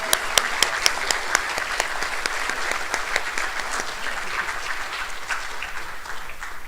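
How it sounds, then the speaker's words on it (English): Audience applause at a school band concert honoring honor band students, a steady wash of clapping with a few sharp individual claps standing out at the start, sustained throughout. "Round of applause for those students."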